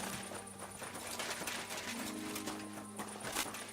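Horse hooves clip-clopping in the video game Kingdom Come: Deliverance II, a quiet irregular patter of steps under ambient game sound.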